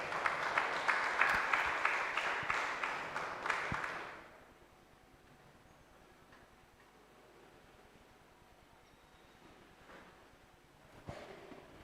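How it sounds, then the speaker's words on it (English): Audience applause at a multidisciplinary conference session fills the first four seconds with dense, fairly loud clapping, then abruptly drops away to a quiet room with faint rustles and a soft knock near the end. "let us give him a good round of applause as he comes to address us"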